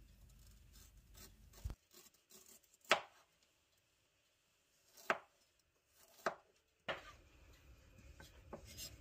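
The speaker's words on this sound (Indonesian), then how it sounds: "iris bawang putih iris jahe," A knife slices garlic and ginger on a cutting board: a handful of sharp, isolated chops spaced a second or two apart, close and crisp, with quiet gaps between.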